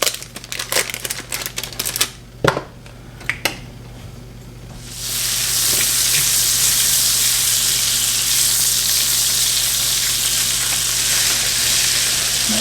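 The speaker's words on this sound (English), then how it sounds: "we are going to add in a stick of butter to get our sauce going" A stick of butter melts in a hot pot on the stove for a homemade mac and cheese sauce: a few clanks and taps at first, then a loud, steady sizzle and crackle that holds to the end.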